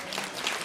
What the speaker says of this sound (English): Give Ramon a round of applause.